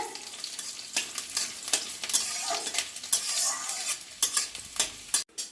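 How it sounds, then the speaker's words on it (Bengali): Four cloves of chopped garlic frying in oil while being stirred: a soft sizzle under repeated sharp scraping strokes of a utensil against the pan, arriving irregularly and close by. "রসুনটাকে লাল লাল করে ভাজতে হবে"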